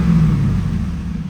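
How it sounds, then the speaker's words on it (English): A 2002 Chevrolet Camaro SS 35th Anniversary Edition with a 5.7L 345hp V8 and automatic transmission, heard close with its exhaust cutout closed, giving a deep steady engine rumble with a slight rise in revs, no voices. "I'll give it a couple revs"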